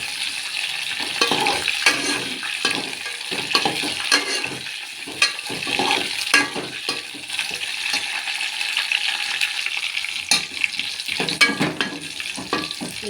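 Green chillies, ginger, garlic and curry leaves fry in a pan for rasam, giving a steady close sizzle broken by frequent scraping stirs and clinks, with no talk.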